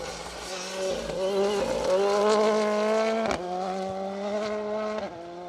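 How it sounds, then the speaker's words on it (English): A Ford Fiesta rally car drives through a forest rally stage, its engine holding a strong, steady, buzzing note that rises in pitch and then shifts as it passes. The sound is moderately loud and fairly near, with a brief sharp crack midway. "It's not, this is the Fiesta of Richard Keane, Alan Haywood."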